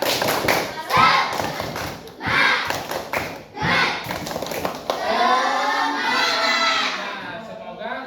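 Fifth-grade schoolchildren in a classroom doing a rhythmic spirit clap, bursts of patterned claps and thumps with shouting voices in short groups, then a stretch of excited children chanting together.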